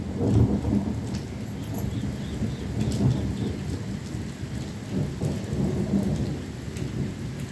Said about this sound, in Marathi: अगदी जवळ कुठेतरी वीज पडली, खूप मोठा आवाज झाला, अगदी जवळ पडली.